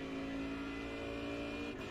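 Mercedes GT3 race car engine at Sebring in iRacing, a steady, loud in-car drone holding a high, sustained pitch with a strong harmonic whine, close and continuous without talk.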